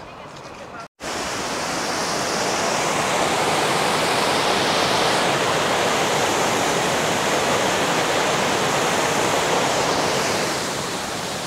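River water rushing over a weir on the River Dodder in Dublin, a loud, continuous roar heard close up after a brief dropout near the start.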